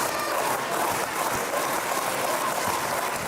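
A pro wrestling crowd at a 2015 Paul Malen vs Joey Ozbourne match keeps up steady cheering and applause, a dense continuous roar at moderate distance with no break.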